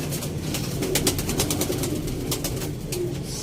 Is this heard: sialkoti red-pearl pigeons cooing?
yes